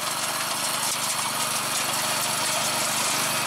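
An old John Deere 110 garden tractor engine, a four-speed mower set up for tilling, runs at a steady, even drone close by with no break.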